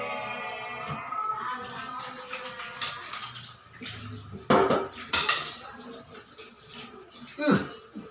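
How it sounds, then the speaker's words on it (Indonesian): Dishes and cutlery being washed by hand, with plates clattering, spoons and forks jingling and water splashing in repeated bursts, close by, while a person talks. "Nyuci piring."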